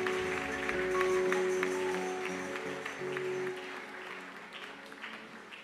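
A church congregation applauding, a sustained crowd clapping with ringing musical tones beneath, loud at first and gradually fading.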